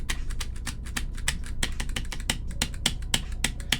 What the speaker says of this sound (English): Well, that's typing